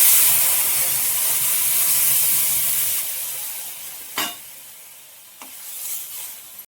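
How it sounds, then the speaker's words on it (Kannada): Tomato curry mixture in the Mysore Brahmin style, with a ground paste stirred in, simmering in a pot on the stove: a steady low hiss and gentle bubbling, with a couple of brief clinks or stirs near the end. "ಮಿಶ್ರಣ ಕುದೀತಾ ಇದೆ"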